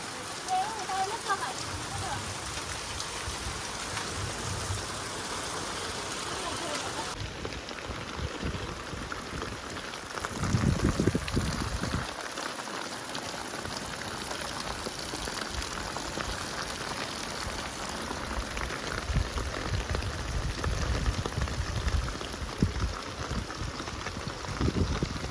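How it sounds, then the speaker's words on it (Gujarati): Heavy rain pours outside during a downpour, a dense steady hiss of falling water that continues throughout, with brief louder bursts of splashing. "તો જુઓ અત્યારે ફૂલ વરસાદ પડ્યો છે, પડવા મળ્યો છે."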